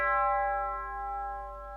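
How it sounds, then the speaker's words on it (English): A sustained bell tone rings with a rich, steady set of overtones, decaying slightly over a couple of seconds with no one talking. "For example, a bell"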